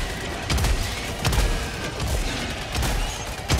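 Sustained automatic gunfire in Helldivers 2 as a full magazine is emptied, a dense rattling burst of loud shots with heavier thumps near the start and at regular intervals.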